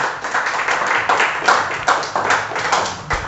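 A church congregation claps together in response to the preacher, a dense, steady patter of many hands with a few sharper individual claps standing out, fairly close and sustained without any talking.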